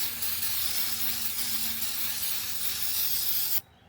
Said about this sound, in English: what I'm going to do is just take some brake cleaner